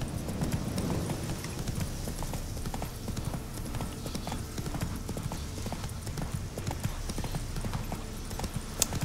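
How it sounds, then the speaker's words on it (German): Horse hooves clip-clop steadily in The Witcher 3, a continuous rhythmic trot of even loudness over game ambience, with a brief voice touch near the end. "Ist das das Pferd? Komm schon. Ja, das ist es."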